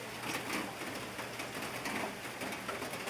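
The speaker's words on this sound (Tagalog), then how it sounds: "Umuulan ngayong umaga dito sa Toledo, Cebu." Steady morning rain patters outdoors in Toledo, Cebu, heard from a terrace, a dense, even hiss, with faint birds cooing now and then in the background.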